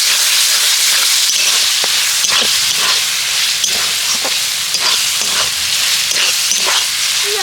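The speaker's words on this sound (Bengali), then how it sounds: "এবার এর মধ্যে আমি দিয়ে দেব টমেটো সস আবার একটু নেড়ে চেড়ে কষিয়ে নেব" Tomato sauce is stirred and sautéed with vegetables in a hot pan, giving a loud, continuous hiss and sizzle with repeated scraping strokes from the stirring, and no voices.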